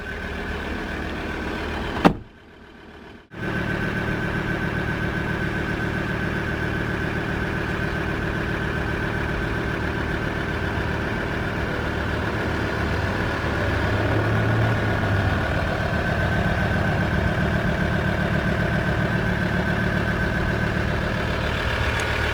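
A 2017 Ford Ranger Wildtrak with its 3.2 diesel engine cranks and catches, a brief silence then a steady low mid-pitched idle hum running evenly for about twenty seconds, close by and without speech.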